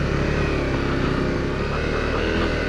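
A Yamaha WR250R dual sport motorcycle climbs a small hill, its engine droning loud and steady at close range throughout, with no voices over it.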